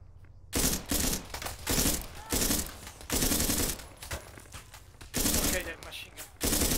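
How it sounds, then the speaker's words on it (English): Machine gun fire in ArmA 3 on the Altis Antistasi scenario: loud, sustained bursts of automatic fire separated by brief pauses, close by and dominating the mix, with a little speech faint underneath. "that machine gun"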